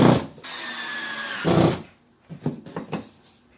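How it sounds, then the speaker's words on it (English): A power drill drives 1¼-inch sheetrock screws into wood behind a drywall hole, whining in two close, loud bursts before a few lighter clicks and knocks. "These are 1¼ inch screws that I'm using, sheetrock screws. And go ahead and fasten that in."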